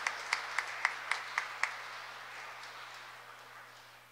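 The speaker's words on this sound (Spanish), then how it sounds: "Ustedes pueden ayudarme a aplaudir a esos grandes actores y actrices hermosos, hermosos." Applause for the young actors of a children's Christmas Mass play, heard as a handful of distinct claps in the first second and a half, then fading into a quiet room tone.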